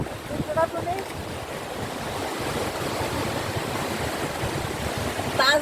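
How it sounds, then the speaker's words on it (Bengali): Roaring sea surf at high tide on Kuakata beach, a steady broadband wash of breaking waves that stays loud and continuous throughout, with wind buffeting the microphone. "আর দেখেন সমুদ্রের গর্জন কি পরিমাণ"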